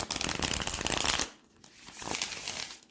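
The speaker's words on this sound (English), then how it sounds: "one more shuffle" A deck of tarot cards being shuffled during a pick-a-pile reading, a dense riffle of rapid card flicks for about a second, then a pause and a softer second shuffle, close and clear with no talk.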